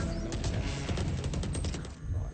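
Continuous gunfire from the Valorant video game, heard during a VCT Pacific esports match, fills the moment as steady rapid shots that ease off briefly near the end.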